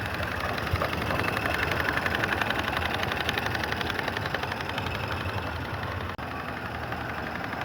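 A Mulch traction engine at a narrow gauge convention runs with a steady, rhythmic mechanical chugging and rumble, close and continuous, with a brief dropout near the end.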